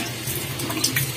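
Tap water runs steadily in a continuous broadband wash, close and moderately loud, with no voices.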